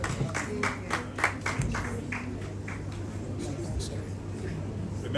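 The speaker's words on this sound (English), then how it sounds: "a round of applause for Barrister Chisom" An audience applauding a barrister at a peace ambassador awards ceremony in Abuja: scattered, distinct claps at first that blur into a softer, steady patter, heard from a moderate distance.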